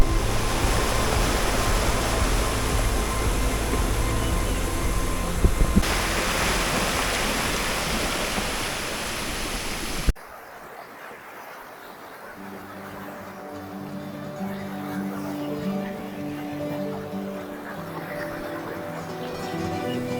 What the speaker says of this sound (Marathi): हा पाण्याचा कळकळाट इतका सुंदर आहे एक मनमोहक आवाज तुम्हाला इथं ऐकायला मिळतो